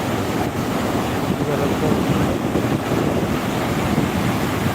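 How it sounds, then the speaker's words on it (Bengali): High-tide sea waves roll onto New Digha beach in a dense, continuous roar of surf, heavily mixed with wind buffeting the microphone. "দেখতে থাকুন নিউ দীঘার সৈকতে জোয়ারের মুহূর্ত তারপর কি জোয়ার চলছে ব্যাপক জোয়ার চলছে"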